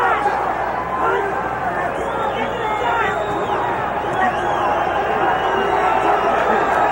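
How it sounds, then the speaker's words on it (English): Boxing arena crowd at the Roberto Duran vs Vinny Pazienza fight, a steady dense roar of applause and cheering that swells and holds throughout, with broad murmuring babble mixed in. "Crowd starting to applaud the end of the fight"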